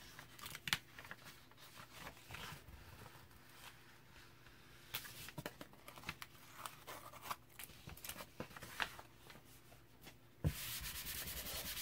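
Watercolor paper being peeled and lifted off a desk after painting, giving soft intermittent rubbing and tearing scrapes at close range with a few sharper crackles, ending in a louder, steadier rustle.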